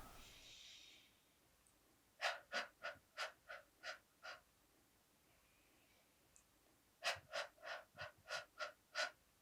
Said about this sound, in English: Fast, intense breathing speeds up the heart rate and activates the sympathetic nervous system